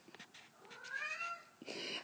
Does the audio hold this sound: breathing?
no